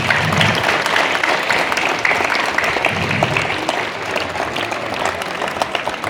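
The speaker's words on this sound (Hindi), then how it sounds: "आप लोग के लिए भी हम लोग एक बार सब मिल करके ताली बजाएंगे।" Crowd applause at a public community gathering in Lohardaga, a steady wash of many hands clapping together, loud and continuous for about six seconds with a faint murmur of voices mixed in.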